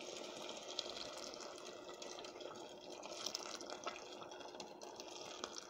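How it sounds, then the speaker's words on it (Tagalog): Water is poured steadily into a pot for boiling, a continuous soft splashing rush of liquid heard close and alone. "nag-boil na po ako ng tubig at talagyan po natin siya ng 4 na litrong tubig"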